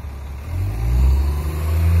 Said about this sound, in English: The noise in the background are the buses.